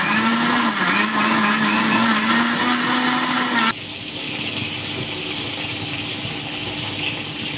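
A mixer grinder grinds three medium tomatoes, running loudly with a steady whirring motor whine, then its pitch drops abruptly and the blades churn on with a duller, lower grinding hum.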